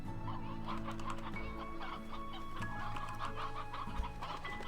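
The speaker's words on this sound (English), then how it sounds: "And there's still so many chickens in here." Chickens cluck continuously in the video game Slime Rancher 2, a busy flock of overlapping clucks and soft calls over a steady background drone of game music, fairly faint and with no talking.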